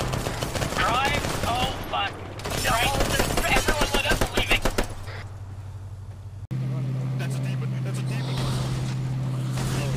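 Rapid bursts of gunfire crackle from an Arma 3 military firefight, dense shots clustered over a few seconds amid shouting voices and a steady low engine hum that continues after the shooting stops.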